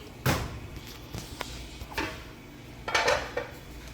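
A lid is set on a cooking pot in a dim kitchen, with a few sharp metallic clanks and clatters, the loudest near the start and another cluster toward the end, among faint kitchen shuffling.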